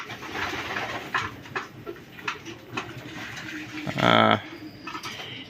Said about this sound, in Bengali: আর এইখানে আছে ভাইয়ের ফ্লাইং কবুতরগুলা